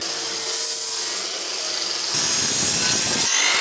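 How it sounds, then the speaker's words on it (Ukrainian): An angle grinder whines steadily, then its tone drops and turns rougher and louder as a flap disc sands against wooden beams, then eases again. "можна шліфанути просто звичайною болгаркою з отаким от пелістковим кругом"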